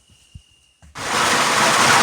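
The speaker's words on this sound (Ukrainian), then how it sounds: "Шурує дощ, Він бачите, льє, гупотить по криші." Heavy rain on a roof during a carp fishing trip. After a near-silent second with a few soft knocks, a loud, dense, continuous roar of pouring rain sets in suddenly and holds steady.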